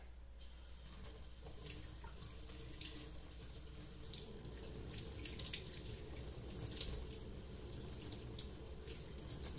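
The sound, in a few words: tap water running while rinsing makeup brushes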